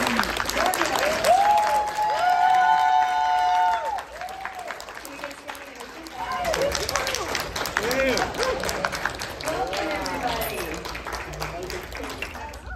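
Audience at a horror film panel for Night of the Living Dead at a convention in Indianapolis breaks into sustained loud applause and cheering, with whoops and voices shouting over the clapping throughout.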